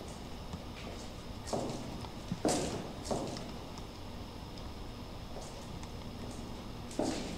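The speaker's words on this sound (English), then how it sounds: "When you crouch, your footsteps become like 10 times louder." Heavy, spaced footsteps while crouching in a horror video game, a few distinct thuds with irregular gaps between them over a quiet background hum, fairly close.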